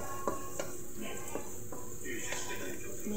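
Garlic fries in a pan over sautéed onions, a continuous sizzle broken by several sharp spatula scrapes and taps against the metal, with talking over it.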